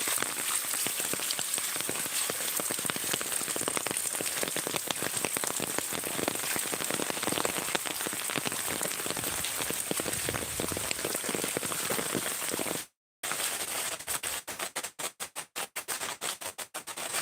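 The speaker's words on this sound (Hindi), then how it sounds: "अभी भी हो रहा है बहुत बारिश, बहुत तेज" Heavy rain pours steadily during a flood near a temple by a river, a dense, loud continuous hiss that cuts out briefly near the end and then returns in choppy bursts. No one speaks.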